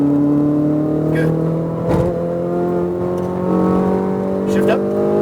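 A car engine on a race track climbs steadily in pitch after an upshift, a loud sustained drone with a brief dip midway, while an instructor's voice talks over it.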